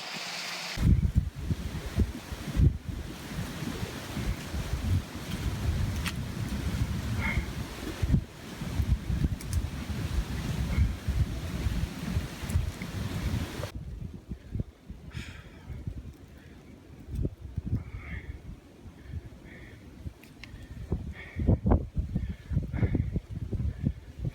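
Brisk wind gusts past the microphone near a creek on a forest hiking loop, roaring and buffeting loudly at first, then easing to softer, intermittent gusts.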